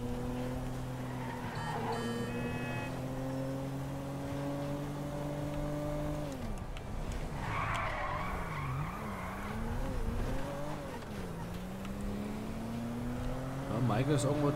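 A car in the video game GTA V drives with a rising and falling engine drone and tires squealing through skids, while someone talks in German over the game sounds.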